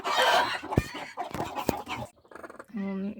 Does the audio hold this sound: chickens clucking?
yes